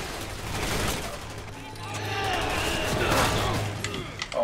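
Gunfire in Resident Evil 6 gameplay, a steady stream of shots against a zombie running for several seconds under tense, busy game noise with a low droning hum.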